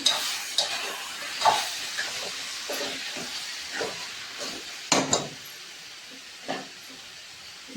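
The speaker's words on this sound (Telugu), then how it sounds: "చికెన్ ఉడుకుతుంది, ఇదిగోండి చికెన్ ఉడుకుతుంది. మంచిగా నూనె కూడా పైకి వచ్చింది చూడండి" Chicken simmering in oil in a pot, with a steady low sizzle and bubbling hiss broken by several sharp stirring scrapes and clinks spaced irregularly, close and moderately loud, no talking.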